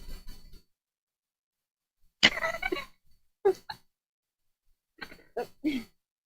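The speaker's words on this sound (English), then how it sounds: "Just coughing." Several separate coughs with quiet gaps between them, close and fairly sharp, one louder throaty cough followed by smaller ones.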